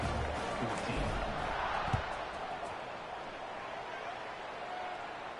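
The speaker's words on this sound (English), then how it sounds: "this crowd now ready to get behind them" Stadium crowd noise from the College Football 26 video game, during a Troy vs Georgia Southern kickoff, a broad steady roar that carries throughout with a brief thump near the middle.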